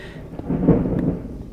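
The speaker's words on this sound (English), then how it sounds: "we've got a bit of a thunderstorm happening at the moment" Thunder from a storm in the video game Minecraft rolls as one low, rumbling crack that swells and fades over about a second, moderately loud and heard alone.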